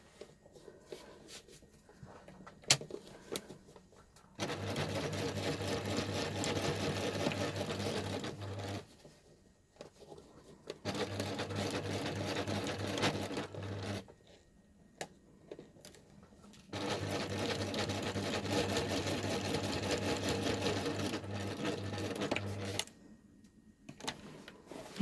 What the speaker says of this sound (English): I can get in there with my sewing machine.